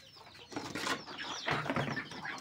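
Farm chickens clucking and squawking just after release from their coop on a rainy day, several birds close by with busy overlapping calls and some wing flapping.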